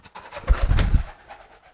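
A pigeon coos in a short, low burst of soft throaty pulses, close by and fairly loud, with brief murmured sounds around it.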